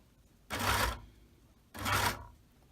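A sewing machine hems the curved edge of a semi circle skirt in two steady bursts of about half a second each, with a brief pause between runs and no talking.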